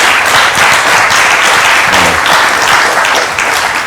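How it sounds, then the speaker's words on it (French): A studio audience on a television talk show applauds loudly and close, a dense burst of clapping that holds steady for a few seconds, with a brief murmur of voices partway through. "on va vous applaudir encore"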